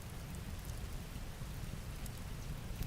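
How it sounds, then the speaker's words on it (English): Steady soundboard rain effect, a dense, continuous hiss of rainfall on a surface with low rumbling body, even and unbroken throughout, no voices. "I need some solid rain. Rain noises."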